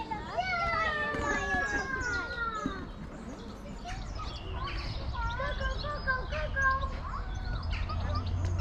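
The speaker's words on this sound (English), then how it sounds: "Scarlet macaw." A scarlet macaw at a zoo lets out harsh, wavering calls, loud and fairly close, with further squawks and chatter from birds and people in the background.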